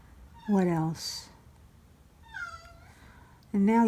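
A cat named Gizmo meows plaintively to be fed, three loud drawn-out cries spaced apart, with quieter sounds in between and close to the listener.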